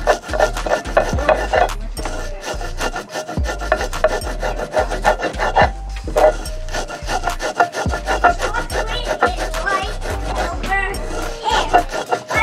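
Cacao beans hand-ground into chocolate paste on a stone in hot weather, a steady rhythmic rasping and rubbing repeated in regular strokes, close and loud, with a faint voice now and then.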